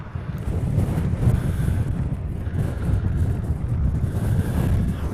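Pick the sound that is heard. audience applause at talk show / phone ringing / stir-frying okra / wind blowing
wind blowing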